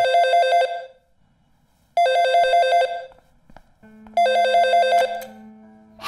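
A telephone rings in three loud, trilling bursts separated by short pauses, with a low hum under the final ring.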